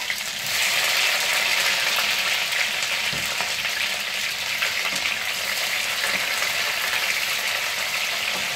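Onions and bell pepper frying in hot oil for a Congolese tomato sauce with ngando, a steady loud sizzle that swells after the first moment and holds evenly, with faint stirring scrapes, no voices.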